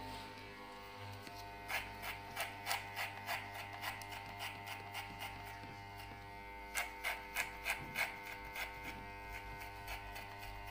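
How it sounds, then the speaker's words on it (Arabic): An electric hair clipper with a number one guard buzzes quietly while cutting a fade, steady hum throughout with bursts of rhythmic rasping as it passes repeatedly over the same area. "دائما نقوم بتمرير الماكينة عدة مرات على نفس المنطقة كي تقوم بقص الشعر بشكل جيد"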